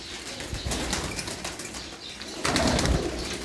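Domestic flying pigeons kept by a hobbyist in Dheri Khanna, with bursts of flapping wings and faint cooing in a loft, close and moderately loud, a louder flurry of wingbeats near the end.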